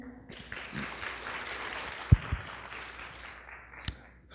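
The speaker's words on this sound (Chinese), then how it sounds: "现在就让我们以热烈的掌声来欢迎蔡一郎先生" Faint applause from a conference audience at a cloud-security talk in Taiwan welcomes a speaker, a soft steady patter of hands lasting a few seconds with a couple of sharp thumps.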